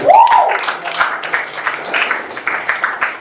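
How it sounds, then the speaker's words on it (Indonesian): Classroom students clap for their classmate Rio, a short burst of scattered hand claps of moderate loudness that starts right after a brief voice sound and carries on unevenly. "Tepuk tangan buat Rio."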